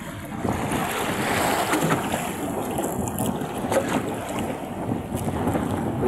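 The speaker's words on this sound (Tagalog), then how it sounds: "Lakas ng hangin guys." Strong wind roars and gusts steadily across the microphone outdoors, with a rushing, buffeting texture and possible water or waves underneath; no voices.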